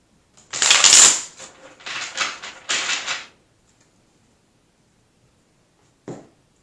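Tarot cards shuffled in three quick riffling bursts at close range, then a pause and a single short snap as a card is pulled, with no talking.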